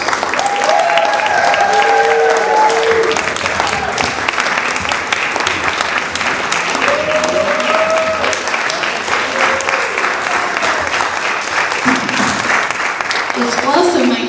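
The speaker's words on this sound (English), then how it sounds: "Give another round of applause to the founders." Sustained audience applause at a Brooklyn For Peace 40th anniversary celebration event, dense steady clapping from a crowd honouring the founders, with a few faint voices rising through it.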